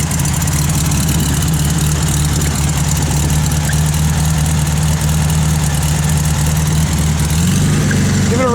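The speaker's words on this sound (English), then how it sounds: "Give it a rev, Jordy" A 1972 Volkswagen Beetle's air-cooled engine idles close by with a loud, steady, throbbing drone that shifts slightly near the end. Voices are faintly audible under it.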